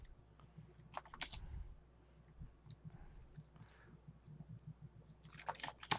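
Fast typing on a computer keyboard during an online card game match, heard as scattered quiet key clicks with a denser burst of keystrokes near the end and no speech.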